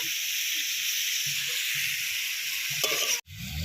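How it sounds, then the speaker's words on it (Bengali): Jackfruit and potatoes sauté in a pan with a steady, close sizzling hiss, a few soft stirring scrapes underneath, and a brief bump near the end. "এঁচড় আলু চার পাঁচ মিনিট ধরে ভালোভাবে কষিয়ে নেব"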